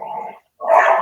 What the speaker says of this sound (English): There goes the dogs.